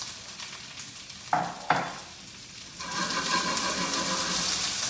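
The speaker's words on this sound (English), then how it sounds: "love a good sizzle" Pancake batter with blueberries sizzling in a hot pan on medium-high heat, two sharp clicks and then a steady, bright frying hiss swelling up close.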